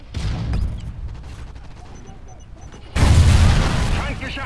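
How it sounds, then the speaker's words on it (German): Gunfire and explosions ring out in Call of Duty: Ghosts, with scattered shots and then a loud booming blast that swells near the end. "Werde beschossen."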